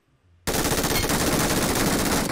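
Rapid, sustained automatic gunfire in the PUBG Mobile battle royale game, loud and dense, bursting in suddenly after a quiet moment and continuing without pause to the end.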